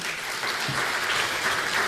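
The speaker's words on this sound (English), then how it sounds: "A round of applause for him." Audience applause for a speaker at an insurance conference in Malawi, a steady wash of clapping from a crowd, moderately loud and continuous for the whole stretch without speech.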